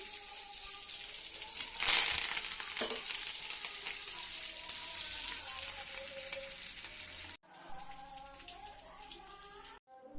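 Cumin and other spices crackle and sizzle steadily in hot oil, a dense hiss with a brief louder sputter early on, then quieter frying.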